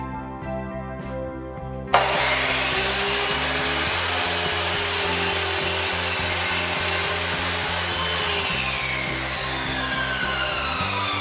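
An Einhell TC-SM 2531/1U sliding miter saw spins up with a sharp start and then cuts through wood in a loud, steady whine lasting several seconds, with a continuous motor hum underneath.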